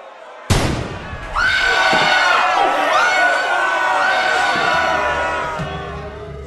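Agitated crowd in the Boris Munchausen video game: a sudden loud bang, then a dense, sustained roar of many voices shouting, with a shrill whinny-like cry rising out of the din, fading slightly toward the end.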